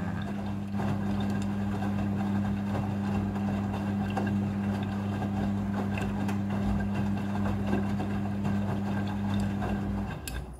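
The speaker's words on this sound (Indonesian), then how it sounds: "Air akan mengisi secara otomatis. Jadi jumlah air yang dibutuhkan untuk proses pembilasan ini diatur secara otomatis oleh mesin cucinya." A Midea front-loading washing machine fills with rinse water, giving a steady, continuous low hum and rushing inflow that stays even and close for about ten seconds before cutting off abruptly near the end.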